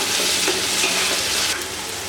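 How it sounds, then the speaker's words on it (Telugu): Chopped tomatoes fry with onions in hot oil for Andhra-style chicken biryani, a loud, dense, close-up sizzle that hisses continuously before easing off slightly near the end. "ఇప్పుడు ఇందులో ముందుగా తరిగి పెట్టుకున్న టమాటాలు వేసుకున్నాము."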